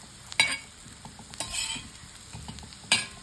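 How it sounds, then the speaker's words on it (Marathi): Vadi pieces frying in a pan over a very low flame give a soft, steady sizzle, broken by a few sharp spatula scrapes and clinks as they are turned, close up with no talking. "वड्या फ्राय करून घ्यायच्या आहेत."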